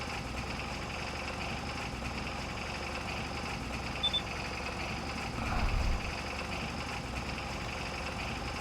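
A tractor engine runs steadily in Farming Simulator 22, a low, even mechanical drone with a brief louder rumble near the end and no voices.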